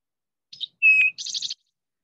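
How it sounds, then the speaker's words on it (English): Recorded eastern towhee song from a birding app, heard once: brief introductory notes, a bright held whistled tone, then a quick rattling trill, clean and alone with no background. "That's an eastern towhee."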